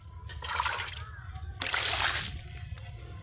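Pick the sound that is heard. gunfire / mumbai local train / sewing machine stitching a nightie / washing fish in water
washing fish in water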